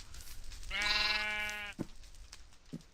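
A sheep in the Minecraft video game lets out one wavering synthetic bleat lasting about a second, near and clear, followed by a couple of short soft clicks.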